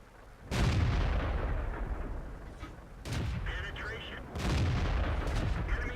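In the World of Tanks video game, a T-28 tank gun fires three times at even intervals, each a loud, close boom with a rumbling tail that fades before the next shot.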